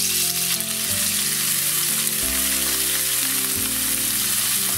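Salted onion sweating in a hot pan with a bay leaf, giving a steady, close, loud sizzle and crackle that runs without a break and has no talking over it.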